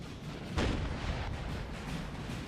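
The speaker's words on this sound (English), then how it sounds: "Artillery looks like it's blasting away at the French already." Artillery fire in Napoleon Total War, a distant rolling boom around half a second in followed by a sustained rumbling battlefield din of continuous low thuds and crackle.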